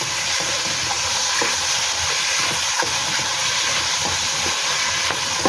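Blanched shiitake mushrooms sauté in a hot pan with a continuous close sizzle and hiss, broken by occasional stirring scrapes.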